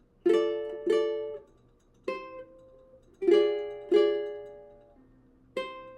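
Fingerstyle ukulele picking the opening phrase of a song, six plucked notes and chords in a slow, uneven rhythm, each ringing out and decaying, close and fairly quiet with no talking.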